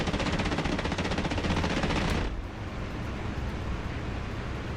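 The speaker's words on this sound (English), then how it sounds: "Alright, I'm going to put cannon shots into the barracks." Aircraft cannon fire from a strafing run in a flight combat video game: a dense, rapid burst of shots lasting about two seconds cuts off abruptly, leaving a steady roar of engine and wind noise.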